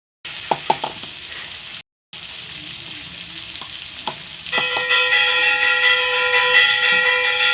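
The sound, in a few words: onion and tomato frying with dried chilli and bay leaf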